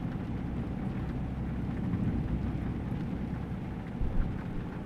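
Steady rain drums on the cab of a Kenworth W900 with a 500 hp 2012 Paccar MX-13 engine in American Truck Simulator, a continuous dense wash with a low rumble underneath, with no pause.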